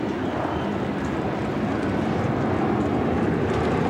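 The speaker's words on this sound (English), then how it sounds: "a jet to pass over that just took off from LaGuardia" A jet climbing out after takeoff from LaGuardia passes overhead of a Mets and Braves baseball game at Shea Stadium, a steady broad roar that fills the whole stretch without talk.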